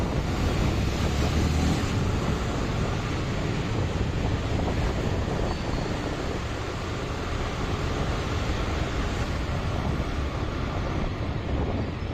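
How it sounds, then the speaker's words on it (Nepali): Loud, continuous rushing river water at the Bijuli Bazaar bridge roars steadily with gusting wind noise, no voices, unbroken for the whole stretch. "पानीको भेल भने यति धेरै छ नि।"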